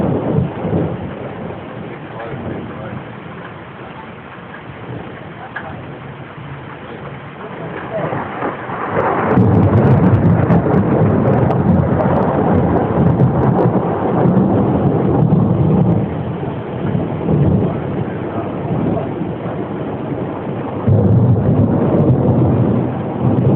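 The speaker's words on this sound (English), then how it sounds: "Nothing like a thunderstorm while you're drinking." Thunderstorm with rain in Bristol, Connecticut: a steady wash of rain and wind, then deep rolling thunder swells around midway and keeps rumbling loudly, captured close on a band-limited recording.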